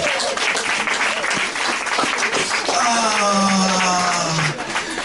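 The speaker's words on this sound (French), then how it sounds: "Est-ce qu'on va applaudir la gloire de Dieu pour mes frères?" A church congregation claps and applauds together, a dense continuous wash of clapping with voices mixed in and a sustained tone rising above it partway through.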